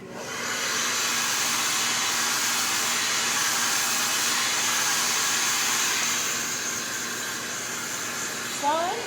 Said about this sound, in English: While I'm blow drying